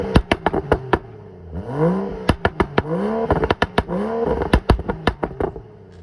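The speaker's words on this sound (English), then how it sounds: "So this is the non-MPPSK stock muffler, the Flowmaster resonator, and then the aftermarket downpipe." Exhaust of a BMW 335i with the N55 engine, running a non-M Performance stock muffler, Flowmaster resonator and aftermarket downpipe, rising and falling through revs with sharp crackling pops scattered over the drone, close and fairly loud.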